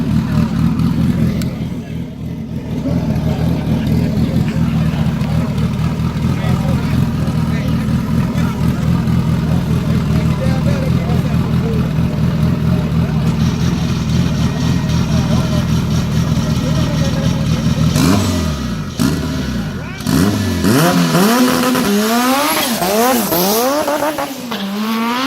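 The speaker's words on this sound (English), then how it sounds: "Man, you hear them damn turbos spooling up." Car engine revving hard with turbochargers spooling up, held near the rev limiter, a steady loud roar for most of the stretch, then sweeping rising and falling whines toward the end.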